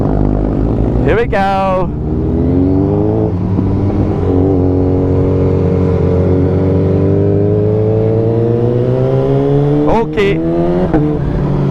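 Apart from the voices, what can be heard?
high-performance motorcycle engine revving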